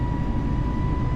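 Airbus A320neo jet in Microsoft Flight Simulator 2020 accelerating down the runway on takeoff, a steady loud engine roar with a constant whine running through it, heard alone for a brief moment.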